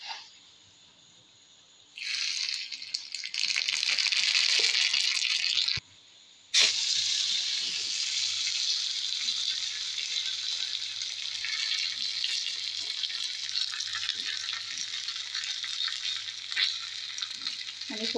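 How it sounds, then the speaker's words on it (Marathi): Mustard seeds hitting hot oil for a Goan tempering, a loud bright crackling sizzle that surges in after a quiet start, briefly cuts out, then settles into a steady hiss and sputter with no talking. "आतां हांव सांसव घालून घेता"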